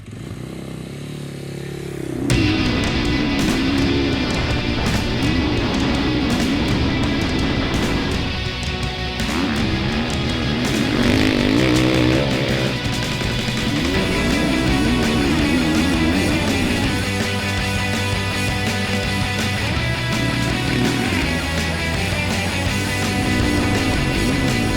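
A 2023 GasGas MC 450F motocross bike rides at the Mount Kembla motorcycle circuit, its engine bursting in loud and then revving hard and continuously through gear changes for over twenty seconds, with no talking.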